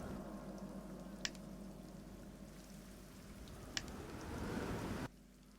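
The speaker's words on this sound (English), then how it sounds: "I'm going to be fighting in light rain" Light rain during a Shogun Total War battle: a soft, steady patter and hiss, with two sharp clicks and a swell of noise just before it cuts off.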